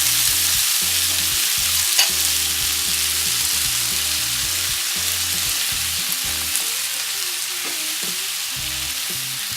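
Sweet potatoes and potatoes frying with garlic in a pan, a steady loud close sizzle throughout with occasional stirring scrapes, no voices.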